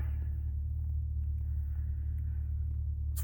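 A noisy truck idles close by in a parking lot before dawn, its deep engine rumble droning steadily and loud throughout.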